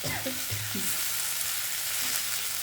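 Potatoes fry in a pan without water for a poppy-seed posto dish, giving a continuous, quiet sizzle with a few faint low tones underneath and no talking.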